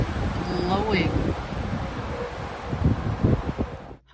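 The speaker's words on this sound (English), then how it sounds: "Boy, is the wind blowing." Wind blows outdoors on a mild day of melting snow, a steady, loud rushing gust buffeting the microphone throughout, with a few faint higher tones and brief knocks near the end.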